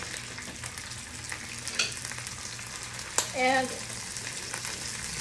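Drained capers fry steadily in a hot pan for a lemon caper pasta, giving a continuous broadband sizzle with a sharp clatter near the middle and a short burst of louder spitting just after it.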